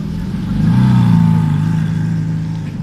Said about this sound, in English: Can't hear anything because that guy's engine.